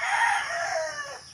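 A rooster recovering from a bacterial illness crows once, a clear drawn-out call that rises and then trails off, close and fairly loud against a quiet background.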